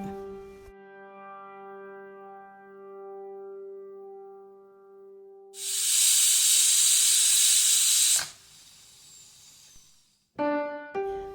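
A pressure cooker holding water and beetroot lets out a loud, steady hissing release of steam for a couple of seconds. Ringing, sustained tones come before and after it.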